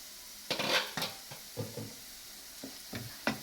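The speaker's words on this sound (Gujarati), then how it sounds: "આપણે ડુંગળી થોડી વાર સાતળવા દેવાની છે" Onions sauté in a pan, a faint sizzle under irregular stirring scrapes and light utensil clicks against the cookware, close and quiet.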